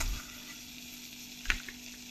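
Butter melts in a pan for soup with a soft, faint sizzle, a quiet steady fry broken by a brief clink of a spoon near the middle.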